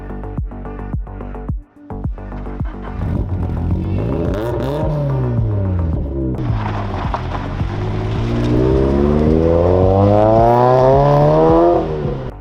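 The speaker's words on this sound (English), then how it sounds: "Let's see what it sounds like. Let's go for a drive." A 400 HP turbocharged Subaru BRZ pulls away with a clattering idle, then revs climb and fall through several gear changes, getting louder and higher as it accelerates hard, recorded from inside.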